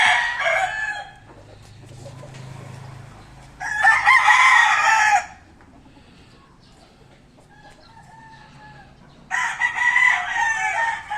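A gamecock rooster crows three times, each crow loud and close with a long pause between, while faint farmyard clucking carries through the quieter gaps.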